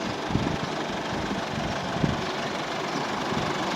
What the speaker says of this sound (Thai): อันนี้กำลังทดสอบดูเครื่องยนต์นะครับ